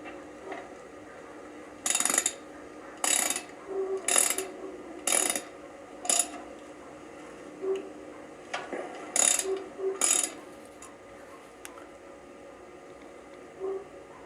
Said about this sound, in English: Finish removing all 8 bolts and put them in the box.